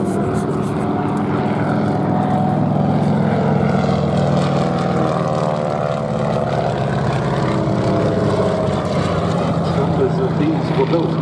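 A Stearman biplane, a fabric-covered wartime primary trainer, flies at the Duxford airshow, its propeller engine droning steadily at a distance while a commentator talks over it throughout.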